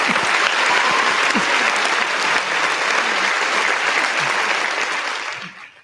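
A group of people applauding steadily during a live board game show, dense sustained clapping that fades out at the end.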